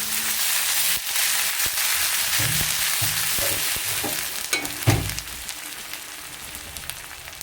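Ginger, garlic and cumin paste fries in hot oil in a pan with a dense, crackling sizzle, broken by sharp spatula scrapes and knocks against the pan and a louder clatter near the middle.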